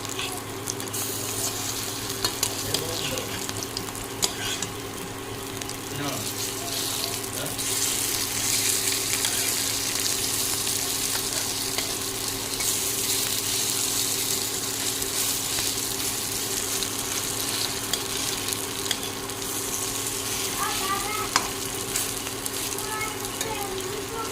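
Pumpkin leaf fritters frying in hot oil in a pan, a steady, even sizzle and crackle that runs throughout with faint spatters and no pauses.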